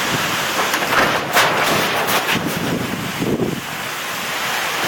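Strong gusting wind from Hurricane Isaac roars outside, buffeting the microphone in heavy surges with a constant rushing background.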